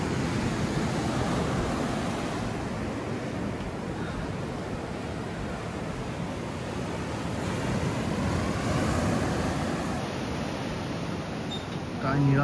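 Surf washing onto an empty beach, a steady broadband roar of waves with gentle swells in intensity, mixed with wind buffeting the microphone, continuous throughout.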